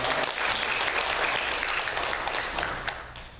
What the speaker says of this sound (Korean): 우리 한번 감사의 박수 합시다